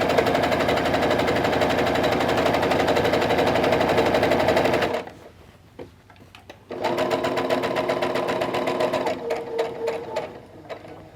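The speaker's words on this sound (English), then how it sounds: "now we're going to sew down the other side of that drawn line, and we can just chain piece all the way down." A sewing machine chain-pieces quilt fabric along a drawn line, whirring steadily for about five seconds, pausing briefly, then running again in another long stretch before ending in shorter stop-start bursts.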